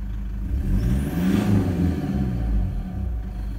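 A 2.5 litre car engine idles while still warming up, a steady close rumble with a faint tapping from a noisy injector, running on its own with no talking.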